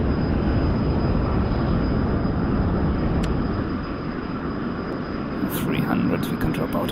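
An F-100 Super Sabre jet engine in afterburner in DCS, a loud, steady, broadband roar with a thin high whine running through it, continuous throughout with a few faint clicks near the end.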